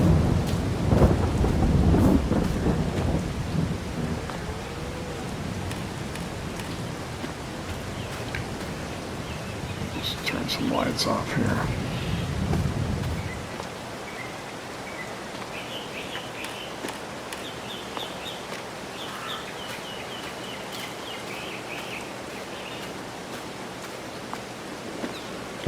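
Rain and a thunderstorm in the video game Farming Simulator 22, with heavy rolling thunder rumbling loudly at the start, then steady rain hiss continuing alone after the thunder dies away; someone speaks briefly.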